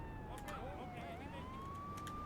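A police siren wails in GTA 3, its rising and falling tone sweeping steadily over a low, continuous background rumble, faint overall and uninterrupted across the short stretch.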